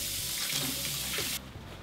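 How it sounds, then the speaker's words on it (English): Very hot tap water streams from a faucet over a chef's knife being warmed, a loud continuous rushing splash that cuts off abruptly near the end. "So I'm gonna run it underneath really hot water and then dry it off"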